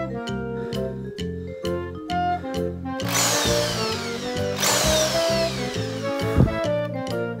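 A power drill boring holes for curtain brackets below a ceiling, a loud whirring burst starting partway through and running continuously over background music, with its pitch rising and falling as it works.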